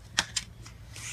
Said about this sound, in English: Let me just shuffle it one more time just to be sure.